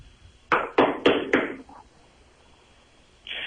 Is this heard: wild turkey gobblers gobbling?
no